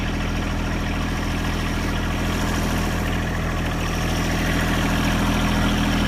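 A tiny tractor engine idles nearby with a continuous, even mechanical drone and a low steady throb, unchanging for several seconds.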